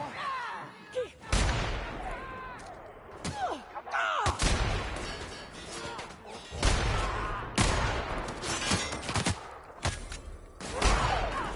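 Gunfire in the video game The Outer Worlds: repeated loud bursts and single shots with impacts and thuds, dense and chaotic, with brief alien-like calls between volleys.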